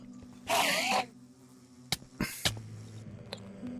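Bees buzzing in a Minecraft All the Mods 10 modpack game: a loud broadband buzz for about half a second, then a few shorter sharp bursts and clicks over a low steady game hum.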